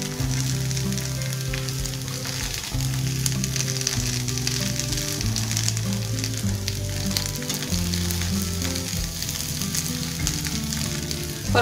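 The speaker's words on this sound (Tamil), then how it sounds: "சின்ன அடுப்பில் வச்சு வேக வச்சாதான் தோசை கொஞ்சம் பொறுமையாக தான் வரும்." Ragi dosa batter sizzles and fries steadily in a pan over a small, low flame, a continuous close crackling hiss with no talk throughout.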